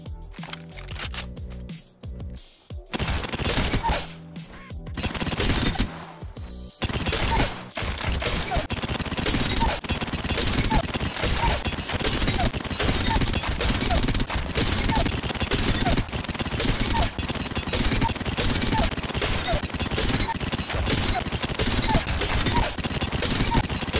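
Rapid automatic gunfire from an Alternator firing at R99 rate in the Apex Legends-style shooter, a dense, loud, continuous rattle of shots that starts after a brief opening and runs almost unbroken to the end.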